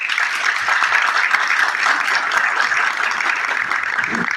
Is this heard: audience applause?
yes